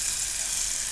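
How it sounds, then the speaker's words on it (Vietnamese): Kimchi and garlic stir-frying in a pan, a steady close sizzle with no pauses and no voices. "Mình xào cho kim chi nó thơm ha."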